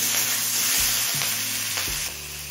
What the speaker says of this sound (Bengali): নুন আর হলুদ দিয়ে সব কিছু আরও 3-4 মিনিট একটু ভাজা ভাজা করে নিলাম।